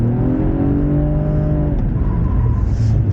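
A BMW M135i drifts on a track, its engine droning steadily and rising under acceleration at close range, with no voices.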